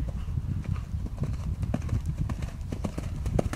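Horse cantering over a jumping course with flower jumps and a brush fence, hooves thudding and clip-clopping in a quick steady rhythm, loud and close throughout.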